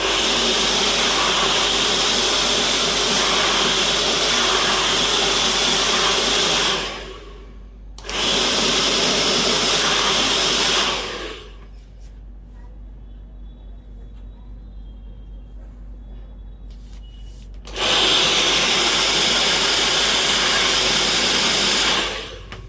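Hair dryer blowing steadily while a large round brush works through the hair, a loud broadband whoosh that cuts off briefly twice and then returns, with a quieter gap in the middle.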